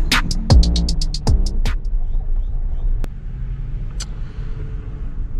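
A 4x4 truck rolls through a small parking lot off-road, a loud close engine rumble with steady low throbbing, broken by a few sharp clanks and thumps early on, and no talk.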